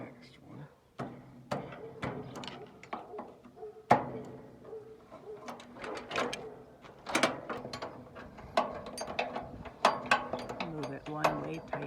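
Metal wrench ratcheting and clanking as bolts are tightened down on a hay feeder for lambs, a busy run of clicks, knocks and scrapes with people talking nearby.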